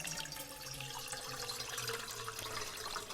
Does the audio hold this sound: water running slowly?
yes